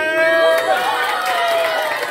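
A school audience gathered for a pupils' debate cheers and claps for a young girl coming on stage. The crowd noise is steady, with voices calling out above it.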